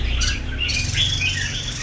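Caged birds chirp and tweet in a bird shop, several bright calls overlapping steadily across the clip against a low background hum.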